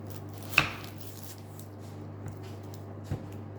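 A knife cuts food on a board in a kitchen, with one sharp chop followed by two fainter cutting knocks over a steady low hum.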